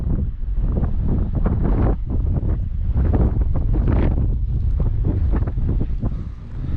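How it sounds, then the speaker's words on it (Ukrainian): Strong, gusty wind roaring across an open field during spring sowing with an Atria seed drill, a loud continuous buffeting with no voices. "Бо вітруган страшний, дивіться, купель піднімає."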